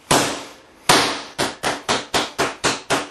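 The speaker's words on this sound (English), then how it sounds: "You hammer into that." A hammer strikes sheet metal to beat round dents into it, making eight loud, sharp metallic blows close by: two spaced hits, then a quicker, fairly even run of six.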